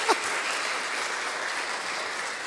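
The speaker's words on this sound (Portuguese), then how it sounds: "Vamos aplaudir com força agora." Steady applause from a crowd fills the whole moment, a dense, even clatter of many hands clapping.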